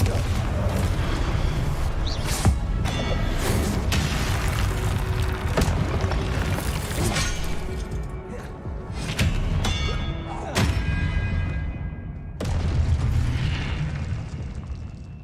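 Blasting-curse explosions from a Hogwarts wizard video game go off as a string of loud, booming bursts and thuds over a dense, continuous battle din, with sharp impacts scattered throughout and a brief lull before the final blasts.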